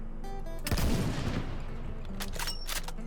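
A single sniper rifle shot fired at a boar in a shooting game, a sharp loud crack with a rumbling tail, set among steady game ambience and a few small effects.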